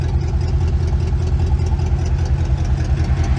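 Steady loud idle of a classic 1962 Chevrolet Impala's rebuilt 283 V8, a deep rhythmic rumble heard up close with no voices.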